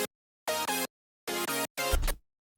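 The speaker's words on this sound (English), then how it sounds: "the first chord layer is basically a hypersaw" A hypersaw synth chord layer in an FL Studio hardstyle track plays three short, buzzy, bright chord stabs, the last one ending in a lower, noisier tail, with no talking.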